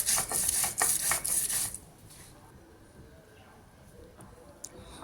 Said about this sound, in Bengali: আমার মশলাটা আমি বেটে নিচ্ছি, আর তার সঙ্গে শুকনো লঙ্কাও আমি দিয়ে দিলাম